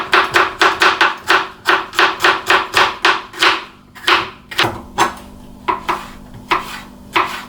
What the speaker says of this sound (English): we need to take our pepper. I've got green, orange and red here. And all we're going to do is slice it into slices.